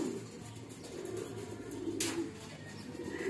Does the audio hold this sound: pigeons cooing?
yes